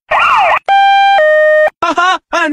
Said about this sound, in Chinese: 警车来了，快跑啊！